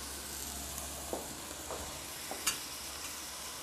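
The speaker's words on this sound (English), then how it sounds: "Stephanie, will you just stir this for me?" Onions sizzle softly in broth in a pan while being stirred, a steady low frying hiss broken by a few light scraping clicks from the spoon, with no voices.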